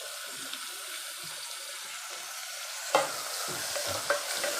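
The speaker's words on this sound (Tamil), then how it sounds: "தக்காளி ஆட் பண்ணி அதையும் நல்லா தக்காளி நல்லா குழஞ்சி வர அளவுக்கு நல்லா வதக்கிக்கணும்" Tomatoes sauté with ginger garlic paste in a pan, giving a close, steady hiss and sizzle broken by a few stirring scrapes and taps. No one speaks.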